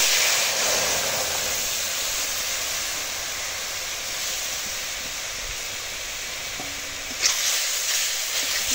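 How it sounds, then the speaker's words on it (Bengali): Spices sautéing in hot oil in a pan for a tengra fish curry with small potatoes, a steady, loud sizzling hiss that carries on without pause. "এখন কিছুক্ষণ কষিয়ে নেব।"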